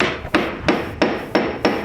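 A hammer strikes a silver pendant on a mandrel five times in an even rhythm, each blow a close, loud metallic tap with a short ringing decay.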